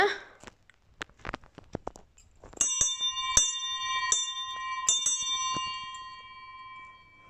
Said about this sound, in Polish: przyszła pora na największego dzwona z tych, które nie wiszą tutaj na dzwonnicy